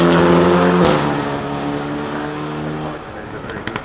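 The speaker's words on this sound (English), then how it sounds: "Turbo GT making its way up the hill." A zero-emission Turbo GT car that puts out only water from its exhaust drives up the hill at the Goodwood Festival of Speed 2024, its steady engine drone close and loud under a commentator's talk.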